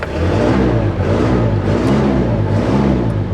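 A John Deere tractor engine running loud and close under load, its revs rising and falling in a steady low rumble with a rough mechanical throb.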